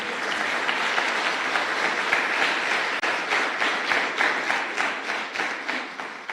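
A church congregation applauds, with loud, dense clapping that starts as a wash and settles into a rhythmic, pulsing beat in unison toward the end.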